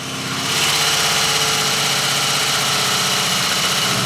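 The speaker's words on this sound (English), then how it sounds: "Engine fired up nicely in the end." A car engine, started after sitting unused for about a year, idles steadily and close, a continuous rumbling drone that rises slightly at the start and then holds even.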